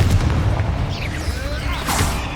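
A Confringo blasting spell from Hogwarts Legacy goes off in a deep, rumbling boom, followed by a sweeping magical whoosh and a second burst near the end amid game sound effects.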